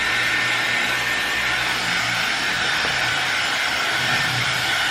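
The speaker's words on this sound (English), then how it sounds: "if I were normally to just dry my hair like this" A hair dryer blowing long hair dry after a Brazilian blow-dry treatment, a loud, steady, close-up whoosh of air that holds unbroken throughout with no voices.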